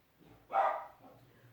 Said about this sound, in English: Apologies for the dogs, they're obviously not that relaxed today.